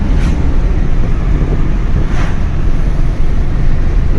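Wind buffets the microphone on a hilltop in a constant low roar, with a couple of brief stronger gusts, no voices present.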